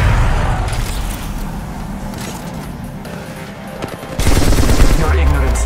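Sustained gunfire in Apex Legends rattles in rapid bursts under a dense low rumble, swelling louder near the end as the shots come closer.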